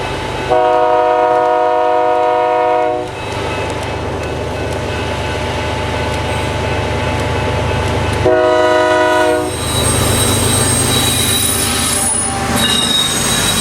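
A BNSF freight train rolls through the Cameron Connection at Galesburg, Illinois in winter, with loud, sustained wheel squeal, a couple of long horn blasts and a continuous heavy rumble of passing cars.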